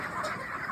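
Chickens on a poultry farm cluck together as they are herded into a tight group, a dense, steady murmur of many birds at close range with no voices.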